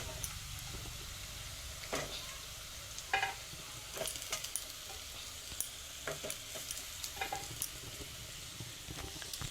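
Bitter gourd pieces fry with browned onions in a pan, a soft continuous sizzle with scattered clicks and scrapes of stirring, fairly quiet and close.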